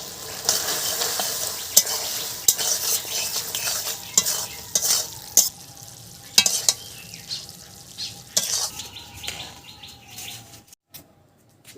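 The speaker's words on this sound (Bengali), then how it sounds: "আমি এবার গরম মশলা দিয়ে নাড়াচাড়া দিয়ে নামিয়ে নেব" Fig curry is stirred in a pan just after garam masala goes in, with sharp spoon scrapes and taps over a soft sizzle, while birds chirp faintly in the background.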